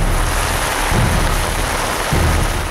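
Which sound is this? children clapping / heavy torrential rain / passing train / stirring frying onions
heavy torrential rain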